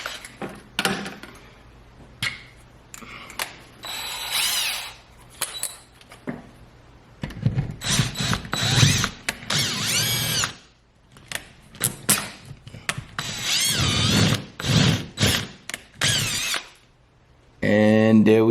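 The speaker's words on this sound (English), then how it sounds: "The extractor actually went through the bolt." Power drill driving a HART screw extractor into a stuck bolt, heard in several loud, uneven bursts of whirring and squealing metal, with quiet gaps and a person talking between runs.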